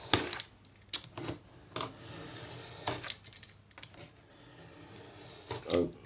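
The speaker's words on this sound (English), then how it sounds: "You gotta be careful when you cut with these knives, slowly and carefully, and you gotta be making a straight cut" Knife slicing through the edges of handmade fabric journal pages, a series of close, light scraping and clicking strokes at an uneven rhythm, soft and quiet with no talking.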